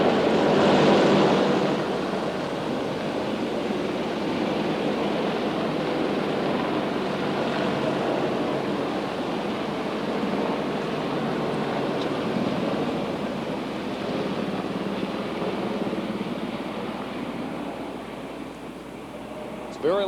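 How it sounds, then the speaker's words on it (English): Army National Guard helicopters in a military flyover above an outdoor inauguration site, a broad roaring rumble that stays loud and steady overhead for the whole stretch. "Very loud here for a few seconds over the inauguration site as the Army National Guard helicopters flew overhead."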